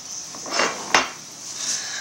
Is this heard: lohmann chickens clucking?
no